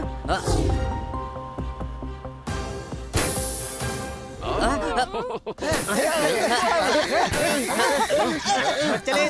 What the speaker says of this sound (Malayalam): ഏതോ പടക്കത്തിന്റെ അല്ല, കാറ് പഞ്ചറായതിന്റെ ശബ്ദമാണ് ഹണി.